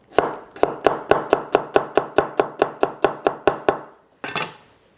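A knife chops an onion lengthwise on a cutting board in about fifteen crisp, evenly spaced strokes, close and clear, followed by a pause and one final heavier cut.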